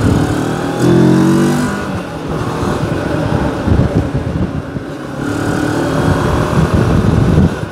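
A CFMoto X-Cape 650 motorcycle engine rumbles and revs nearby, rising and falling in pitch through several throttle bursts, with no voices over it.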